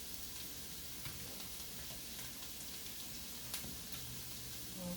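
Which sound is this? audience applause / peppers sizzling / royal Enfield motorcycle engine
peppers sizzling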